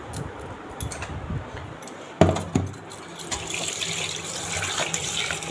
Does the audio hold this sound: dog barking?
no